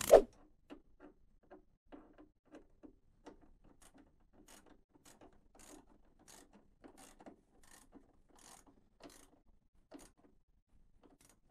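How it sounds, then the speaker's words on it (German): Mannesmann ratchet from a Brüder Mannesmann M29088 tool case clicking in a steady series of sharp, close metallic ticks, starting with one louder knock, with no talk. "Persönlich gefallen mir die Knarren von Mannesmann ganz gut."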